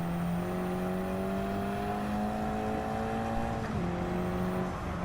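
Race car engine in Gran Turismo 7 at Michelin Raceway Road Atlanta, holding a steady loud drone with rising pitch, then a brief dip as the throttle lifts and comes straight back on.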